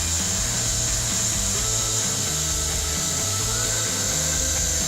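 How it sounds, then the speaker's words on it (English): Heat gun used to weld a split roofing pipe boot, a loud continuous airy blowing hiss with a steady motor hum and faint scraping of the material, close and unbroken. "So as I'm welding this,"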